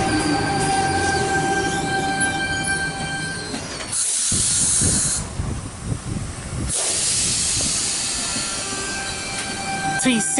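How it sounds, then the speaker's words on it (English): Sydney electric train set departing platform 1 at Heathcote station on a Bondi Junction service, loud steady hiss and rumble of motors and wheels close by, with a brief drop and squealing tones as it pulls away; a voice is faintly present. "T6 and T18 is now departing platform number 1, Bondi Junction service."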